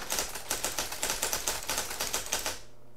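Rapid, even rhythm of loud typing strikes on an IBM Selectric electric typewriter, close up, about four keystrokes a second for two and a half seconds before the clatter stops and the machine's motor hum carries on alone.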